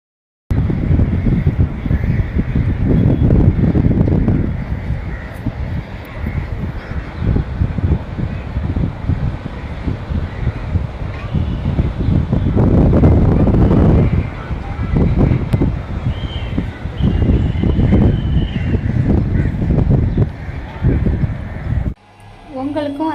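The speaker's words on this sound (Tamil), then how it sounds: "பாருங்கள் எப்படி அலை வருதுன்னு சொல்லிட்டு" Sea waves roll in at Mahabalipuram beach with a loud surging wash, swelling and fading in repeated bursts under heavy wind buffeting on the microphone.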